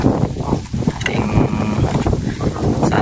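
Strong wind buffets the microphone in loud, continuous rumbling gusts at an outdoor fishing spot by a hut, with a faint tonal whine partway through.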